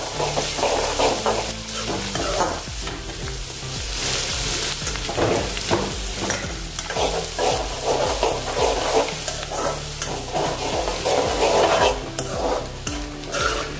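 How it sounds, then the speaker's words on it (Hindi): Onions fry in a pan on high heat for a Kathiyawadi sev curry, with a close, loud sizzle broken by repeated scraping and clinking of a spoon stirring against the pan. "अच्छे से इसको भून लेंगे।"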